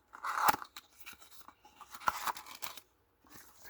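Scissors cutting into the plastic packaging of a Tomica die-cast toy car, close and quiet, with a series of irregular snips, crinkles and crunches separated by short pauses.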